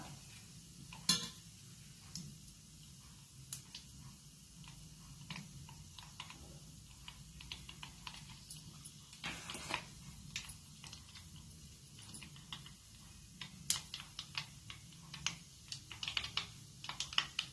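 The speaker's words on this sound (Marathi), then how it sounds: "मोहरी आणि जिरे फोडणीला टाकलेलं आहे ते चांगले तडाडले" Mustard and cumin seeds crackle and pop in hot oil for tempering, a dense run of quick irregular ticks that grows busier toward the end.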